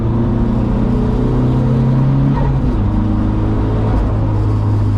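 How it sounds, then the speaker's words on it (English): A turbocharged car engine drones loud and steady through a clutch gear change, its harmonic tones stepping down in pitch as the revs drop, with a constant rumble underneath and no voices. "That was me letting off, just changing gear, and this is, you know, a clutch change."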